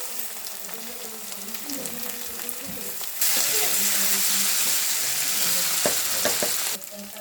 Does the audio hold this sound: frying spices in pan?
yes